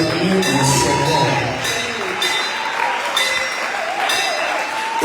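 A church congregation at a Thursday worship service applauds and cheers for the Lord, with steady clapping and voices going on continuously and loudly across the whole stretch.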